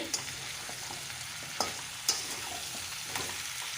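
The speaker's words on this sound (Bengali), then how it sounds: "কুমড়ো আলুটা কিছুক্ষণের জন্যে ভালো করে একটু নাড়িয়ে চাড়িয়ে নেব তেলের মধ্যে" Pumpkin and potato pieces stirred while frying in oil, a steady close sizzle broken by a few sharp spatula knocks and scrapes against the pan.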